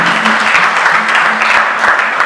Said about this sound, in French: je vous prie d'applaudir aussi très fort pour lui